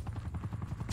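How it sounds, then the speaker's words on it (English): A helicopter in a Call of Duty-style shooter game beats with rapid, steady rotor thumps, loud and close, over about a second with no speech. "Yo. Helicopter,"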